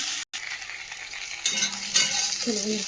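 Pointed gourd fries in hot oil with salt and turmeric, giving a steady close sizzle with a few brief stirring scrapes toward the end.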